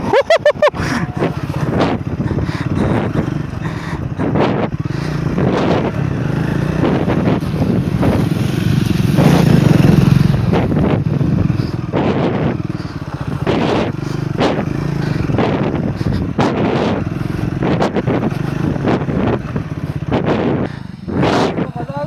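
A Triumph Scrambler 400 XC motorcycle rides off-road, its engine note rising and falling under heavy wind buffeting, with bursts of revving and bumps across the trail.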